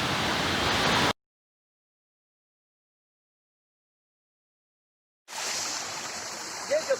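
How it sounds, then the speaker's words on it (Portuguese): Rushing water from the Cachoeira de Santa Bárbara waterfall in the Poço Azul complex, Chapada das Mesas, forms a steady broadband roar. It plays for about a second, drops into a long silence, then returns and holds to the end. "Próximo à cachoeira, que é essa cachoeira que nós chamamos de Cachoeira de Santa Bárbara."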